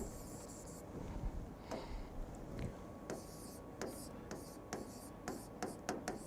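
Marker or chalk scratching on a board during a lecture, in short strokes and taps with small gaps between them, heard over soft room noise.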